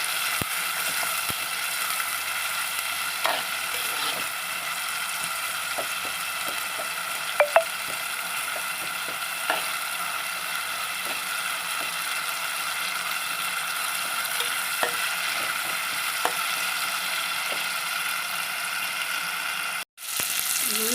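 Spice masala paste fries in a pan for a prawn and ridge gourd curry, a low steady sizzle with occasional light clicks and scrapes of stirring, no talk.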